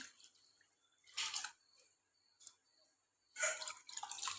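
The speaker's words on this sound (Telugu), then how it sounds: "పులుపుకి తగ్గట్టు చింతపండు పిండుకొని ఉంచుకున్నాను ఈ పులుపుని ఇప్పుడు దీనిలో వేసేసుకుందాం" Tamarind extract poured into a simmering fish curry of small fish, with two quiet splashing, trickling bursts separated by near silence.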